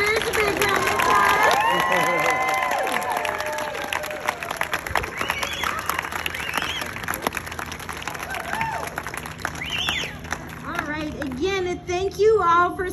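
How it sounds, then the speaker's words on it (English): Audience applause and cheering at a kindergarten promotion ceremony: a crowd claps steadily with whoops and children's shouts mixed in, while voices chatter throughout and the noise swells again toward the end. "let's give all of our promoting kinders a big round of applause"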